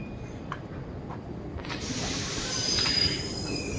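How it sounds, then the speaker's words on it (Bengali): A train pulls out of a station platform, a steady broadband rumble and hiss that swells slightly as it gathers speed. "এই দেখো ট্রেন বেরিয়ে চলে যাচ্ছে।"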